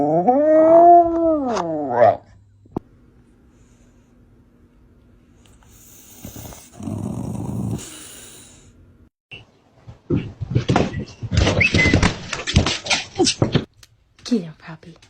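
A dog gives a drawn-out howling bark on command, followed later by a short cluster of vocal yelps and noisy bursts; a person speaks in between.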